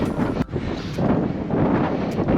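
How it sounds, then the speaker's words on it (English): Steady headwind roars and buffets against a microphone while cycling uphill, a dense low rumble with gusty swells and a brief drop near the start, no voices. "This headwind I talked about before really isn't stopping."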